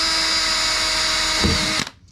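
A power drill bores a hole into a kayak hull while fitting a rod holder, a loud steady high whine lasting under two seconds before it winds down and stops.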